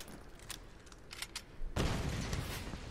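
Grenade launcher explosions in the Tomb Raider video game, a muffled crackle of blasts followed by a sudden loud, sustained roaring burst of broadband noise.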